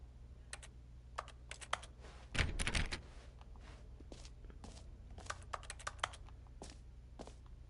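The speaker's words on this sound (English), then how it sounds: "I love how no matter what I click on, it sounds like I'm typing on a keyboard." Sparse, crisp keyboard-like clicks from The Stanley Parable, tapping out irregularly, with a brief busier burst of clatter near the middle.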